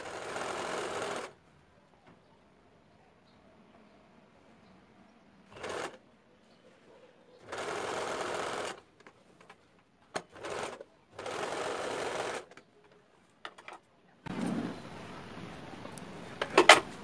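A sewing machine stitches a frock's front and back panels together in short separate bursts, each a steady quick run of a second or two, with quiet gaps and small handling clicks between.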